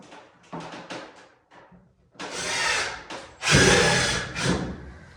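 A power driver whirs in two loud bursts as a self-tapping screw bites into wood, with softer handling noises and clicks before it.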